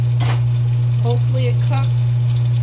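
A Shake N Bake breaded pork chop fries in smoking hot oil, a steady spattering sizzle beneath a loud constant electrical hum, with a voice speaking briefly.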